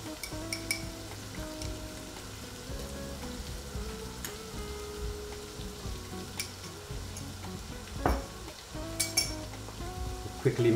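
Grated garlic and ginger mixture sizzles steadily in a curry pan, with a spoon stirring and clinking against the metal, moderately close, building to louder scraping bursts near the end.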